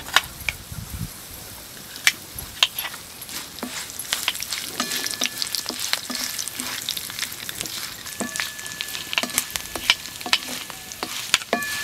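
Cumin seeds, dried red chillies and curry leaves frying in hot oil, a constant sizzle broken by many sharp pops and crackles that come irregularly, heard close with no talking.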